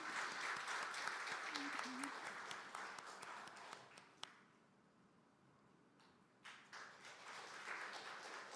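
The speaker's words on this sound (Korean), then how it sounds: "나오실 때 우리 큰 박수로 한번 환영하겠습니다." A church congregation applauds to welcome a member coming forward to give a testimony. The clapping is moderate, fades to near quiet midway, then resumes softly, with some voices faintly audible.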